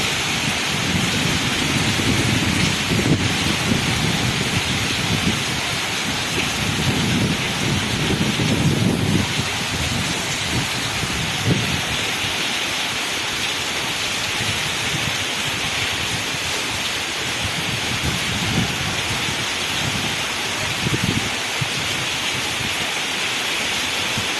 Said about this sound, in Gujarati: તમે જોઈ શકો છો વરસાદ હમણાં ધીમો પડ્યો છે